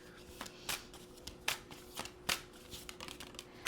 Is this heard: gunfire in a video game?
no